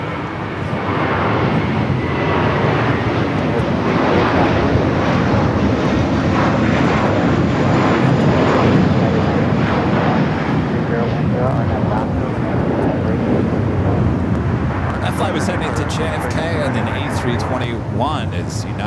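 United Boeing 787 Dreamliner jet arriving on the north side at LAX, a loud, sustained engine roar that continues throughout while someone talks over it.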